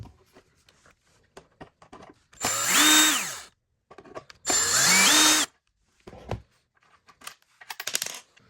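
Power screwdriver whines in two long bursts, pitch rising as it backs out T10 and silver Phillips screws from plastic trim on a 2015-2020 Cadillac Escalade, with small clicks and handling noises between runs.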